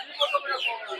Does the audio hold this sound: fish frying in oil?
no